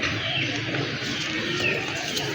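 A pair of pigeons coos, soft throaty calls repeating close by over a steady background hum.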